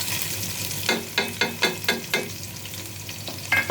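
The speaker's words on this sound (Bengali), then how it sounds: "এখন আমরা পেঁয়াজটা ভাজা করব।" Onions frying in a pan for khichuri, with a run of close, sharp scraping stirs over a steady sizzle, each stroke distinct and rhythmic, then a short pause before more stirring.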